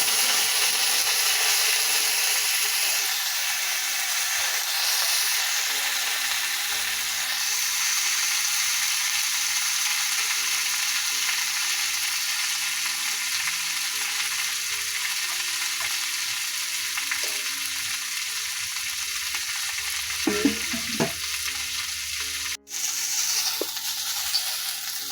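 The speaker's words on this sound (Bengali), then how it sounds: "লঙ্কা দিয়ে দিলাম, শুকনো লঙ্কা আর রসুন আর পেঁয়াজ কুচি আর পরে দেবো।" Dried red chillies, garlic and chopped onion fry in hot oil. A loud, continuous sizzle runs unbroken throughout, close up, with a few stirring knocks and clatters near the end and no voices.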